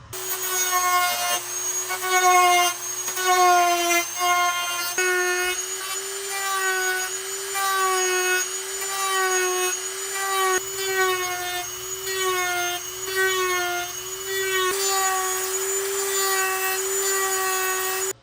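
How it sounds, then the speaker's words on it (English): A Dremel rotary tool cuts plastic Stormtrooper armor with a high, continuous whine whose pitch wavers slightly as it bites into the material. A constant hum runs underneath, and the sound continues nonstop. "to Dremel out all of these cuts to get right where we want to be for our return edges and our flat sides."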